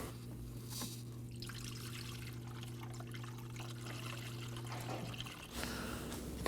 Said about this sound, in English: Insert our funnel and fill up our reservoir.